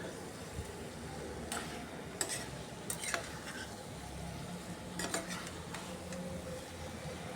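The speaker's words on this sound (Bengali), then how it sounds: "সব কিছু দিয়ে একটু সময় কষিয়ে নিচ্ছি ফুলকপি, আলু, টমেটো, চিকেন।" Cauliflower, potato, tomato and chicken sauté together in a pan, with a low steady frying hiss and a few distinct clinks and scrapes of a utensil stirring now and then.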